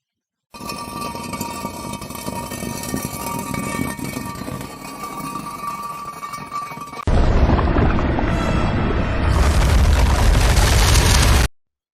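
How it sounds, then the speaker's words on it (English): Harsh, continuous grinding and scraping of a cinder block dragged over rough concrete, growing louder and coarser halfway through before stopping abruptly. "it was dragging a cinder block across concrete"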